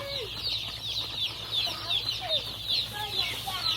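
Pastured chickens clucking and calling steadily nearby, several birds overlapping in a busy, continuous chatter with no voices.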